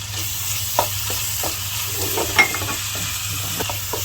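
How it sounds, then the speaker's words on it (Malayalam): Sliced onions frying in a pan with green chilies and curry leaves, stirred with a spoon: a steady low sizzle broken by several sharp scrapes and taps against the pan, close and clear, with no talking. "ഈ സവാള നല്ലോണം വരണ്ട് വരുന്നവരെ നമുക്കൊന്ന് ഇളക്കി കൊടുക്കാം."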